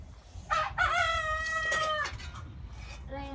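A chicken calls close by, a drawn-out squawking cackle with a brief cluck after it, standing out clearly over quiet background noise.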